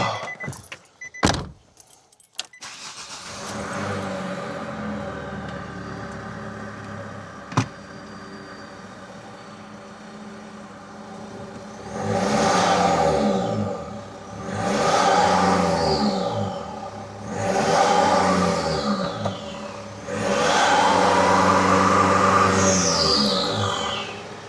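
A Nissan Navara fitted with a new snorkel cranks and starts after keys jingle and a door clunks, then its engine idles and revs in four distinct rising bursts, close and loud.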